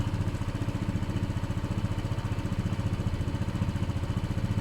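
A Honda PS 125 moped engine runs steadily at a fast, even idle, its rapid putter close and continuous with no pauses.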